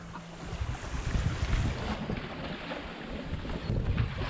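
Wind rushes over a sailboat running along the Caribbean coast between Carriacou and Grenada, with water washing against the hull in a steady broadband roar and gusty microphone buffeting throughout.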